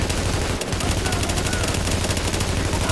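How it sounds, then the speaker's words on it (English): Rapid, continuous automatic assault rifle fire in The Division, a dense stream of closely spaced shots, loud and steady for a few seconds. "See, this assault rifle sucks. I can't do no damage."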